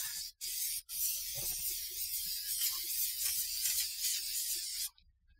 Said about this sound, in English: I'm spraying it like spray paint.